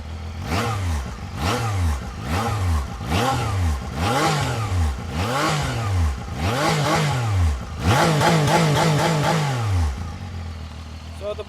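Zontes 703F triple-cylinder motorcycle in sport mode, close by, revved repeatedly in a steady series of sharp throttle blips, each rising and falling, with one longer, higher rev near the end before it settles back to idle.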